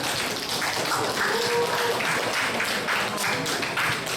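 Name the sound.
applause at a youth church service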